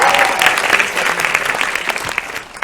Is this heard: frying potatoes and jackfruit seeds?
no